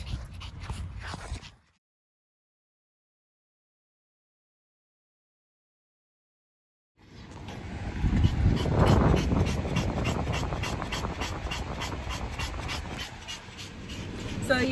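An old dog panting and whimpering inside a car after a hot outing, a quick breathy rhythm with soft whines, close and fairly loud, following a long silent gap.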